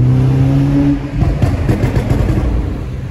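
A VW Golf 5 GTI engine rumbles loud and close inside a tunnel, a steady tone dropping away before a rougher, crackling rush of engine and road noise fills the rest.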